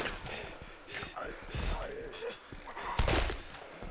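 Rapid bursts of gunfire from DOOM ring out in quick repeated volleys, with a heavier blast near the end, under a busy mix of game sounds and some voices.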